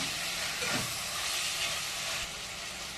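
Vegetables hiss and sizzle steadily in a hot pan while being stir-fried with black pepper for restaurant-style fried rice, a continuous close frying noise with no talking.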